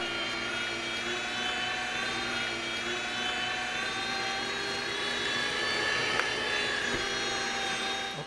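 A meat grinder works through cold sausage meat for summer sausage, giving a continuous, even motor whine with no pauses and no talk.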